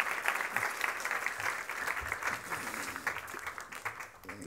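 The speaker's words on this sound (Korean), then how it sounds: "박수 한번 주십시오." A church congregation applauding, a sustained wash of clapping from a fairly large group, heard at moderate distance and steady throughout.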